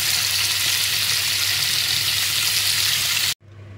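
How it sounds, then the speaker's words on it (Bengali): Paneer fries in hot oil with a loud, steady sizzle and crackle close by, which cuts off abruptly near the end and leaves a quieter hiss. "তো এই যে তেলটা গরম হয়ে গিয়েছে, পনিরগুলোকে একটু ভালো করে ভেজে নেব।"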